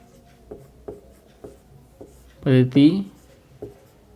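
A pen or marker writes on a board during a number-system lesson, making a series of light, short taps and strokes at an uneven pace. A voice speaks briefly partway through.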